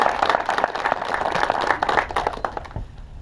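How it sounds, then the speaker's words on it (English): Applause for soldiers at an Army change of command ceremony at Fort Huachuca, a full burst of clapping that holds steady and then thins out. "in today's ceremony with a round of applause."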